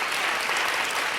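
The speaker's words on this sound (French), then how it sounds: "Oui, on peut les applaudir." A studio audience at a Loft Story 5 television gala applauds in a thick, sustained burst of clapping, loud and unbroken for the whole moment.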